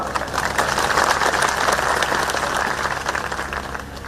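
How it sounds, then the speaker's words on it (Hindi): An audience at a political rally in Nalagarh, addressed by the Chief Minister, gives loud, dense applause that holds steady for several seconds, close and with no voice over it. "कुछ लोगों ने बजाई ताली, कुछ लोगों ने सिर्फ सुना"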